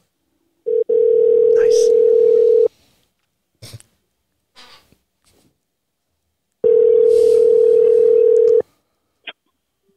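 Two long electronic ringback tones sound on an outgoing phone call, each about two seconds, separated by a pause with faint handling noises. A brief word is spoken in the gap.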